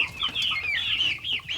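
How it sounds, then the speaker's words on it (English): Rhode Island Red and Brahma laying hens on a farm clucking steadily, several close birds trading rising, warbling calls with no pauses across the whole stretch. "our laying hens are Rhode Island Reds, Brahmas so far, and Baird Necks"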